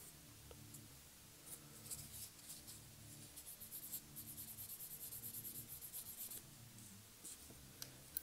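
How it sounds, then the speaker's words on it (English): A seam is sanded flat on a plastic miniature model kit, heard as soft, quiet rhythmic rubbing strokes, close up, growing into a steady back-and-forth run in the middle before easing off. "I'm going to scrape it flat, and we'll sand it down"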